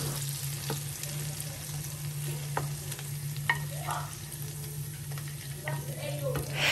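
Food being stirred into a simmering sauce in a pan while cooking Ghanaian ampesi and abomu, with a steady soft sizzle and scattered scraping clicks of the spoon, close and unaccompanied.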